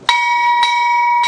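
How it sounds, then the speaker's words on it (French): A bright metallic bell struck three times in quick succession, each ring sustaining a clear ringing tone that overlaps the next. "Une sonnerie de cloche"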